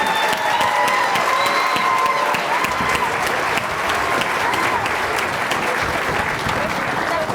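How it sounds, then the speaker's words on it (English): Parents at an elementary school holiday showcase concert applaud the students, a full, steady clapping with some cheering that carries on continuously, with voices mixed in. "One more round of applause for their hard work this semester."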